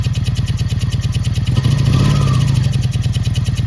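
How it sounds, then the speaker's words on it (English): A Honda Magna VF700 motorcycle engine runs close by with a fast, steady, pulsing idle, swelling into a brief rev in the middle before settling back, with no talking over it. "I'll say this bike hasn't ran this good in a very long time."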